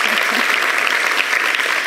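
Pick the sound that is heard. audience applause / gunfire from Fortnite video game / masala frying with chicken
audience applause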